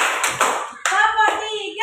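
Children in a classroom clap their hands during a counting clap game, a few sharp claps mixed under a teacher's sung chant that dominates the short stretch.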